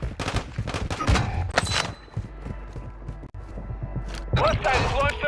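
Gunfire bursts in a Call of Duty–style military shooter game, sharp cracks scattered across the scene amid radio-style callouts and game voices talking throughout.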